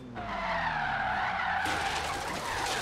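Regalia drifting in Forza Horizon 3, driven with a Logitech G920 wheel: a loud, continuous tire squeal rises and shifts tone over the engine's roar, sustained without a break and with no voices.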